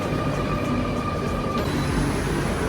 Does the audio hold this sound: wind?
no